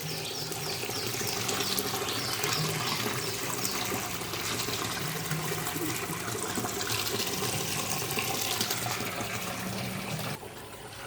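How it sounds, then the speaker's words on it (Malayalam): Water flows continuously through a filtration-like fish pond, a steady close rush and trickle that fills the scene, with no talk heard. "ഇതൊരു വെള്ളം ഫിൽട്രേഷൻ്റെ പോലെ ഒരു സംഭവമാണ്."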